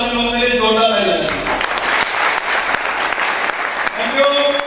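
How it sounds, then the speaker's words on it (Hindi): Audience applause breaking out at a business plan presentation, a dense, loud wash of clapping that builds after a spoken request and carries on for several seconds, close and full. "एक बार मेरी तरफ से आप सभी लोगों के लिए जोरदार ताली बजाएं"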